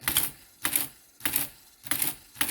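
A Monroe CSA-10 mechanical calculator runs repeat and non-repeat addition. Its crisp mechanical clatter comes in regular bursts about every half second, four or five cycles close up, with brief quiet gaps between them.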